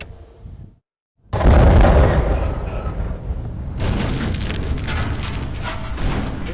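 Demolition charges bring down a 650-foot power station smokestack at a generating station in a sudden, loud implosion blast after a brief silence, followed by a sustained rumbling roar as the stack collapses, heard at a distance.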